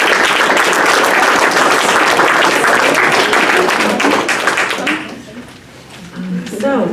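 Loud, dense applause from an audience at a Rho Kappa social studies honor society induction ceremony fills most of the moment, then fades as a voice begins speaking near the end.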